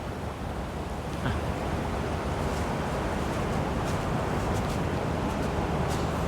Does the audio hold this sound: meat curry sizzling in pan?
no